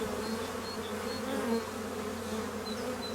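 Honeybees buzz steadily on the floor of a beehive, a dense, continuous insect drone close by at low level with no talking.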